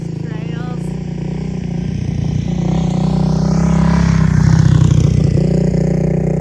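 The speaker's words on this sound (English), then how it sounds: "Now, here comes the motorcycle again." A motorcycle engine drones steadily on a sunny trail in North Carolina, rising in pitch and loudness as it approaches and passes near, then settling back.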